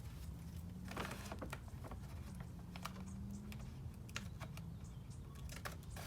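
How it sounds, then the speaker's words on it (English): Scissors cut open a fertilizer bag in a series of quick, soft snips and crinkles, faint and close, with no talking. "open this up with my scissors."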